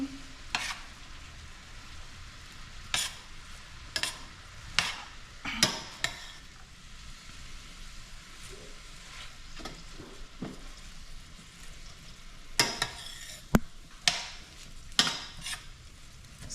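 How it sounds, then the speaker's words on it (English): Vegetables for an Ital steamed cabbage dish are stirred and mixed in a pot, giving a series of distinct scraping and clanking strokes of a utensil against metal over a low sizzle. "So we're just mixing the vegetable all together."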